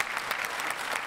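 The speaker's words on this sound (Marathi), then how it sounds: "जोरदार टाळ्या अश्विनीजींसाठी मी विनंती करतो" Steady, dense clapping from a studio audience at a Marathi comedy TV show, a continuous wash of applause with no voices over it.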